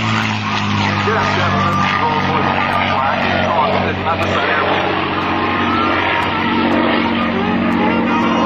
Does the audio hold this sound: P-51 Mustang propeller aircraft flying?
yes